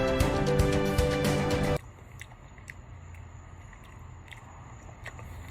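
A crunchy fruit with gritty, pear-like cells is bitten, a loud crisp crunch in the first two seconds, then quieter sporadic chewing clicks close to the mouth, no talking.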